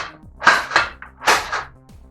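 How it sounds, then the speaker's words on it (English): An X-Shot Turbo Fire toy blaster fires darts in slam fire, giving several sharp, close snapping shots in quick succession, about four bursts in two seconds, with no talk. "All right, last 3 shots. We're going in slam fire, baby."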